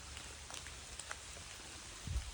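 Soft, steady rain patters down in a village in May with scattered drops, a quiet outdoor hush, and a low rumble near the end.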